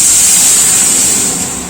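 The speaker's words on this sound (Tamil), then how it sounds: "பருப்பு எடுத்து ஊற்றிக்கலாம்" Cooked dal is poured into a pan of sizzling onion and chilli tempering, giving a loud, close, continuous hiss and sputter that fades slightly as it settles.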